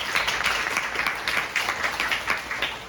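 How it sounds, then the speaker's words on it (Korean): A dense patter of audience clapping fills the room at a university department's end-of-semester chapel service, steady and sustained throughout with no voices. "감사의 박수 부탁드립니다"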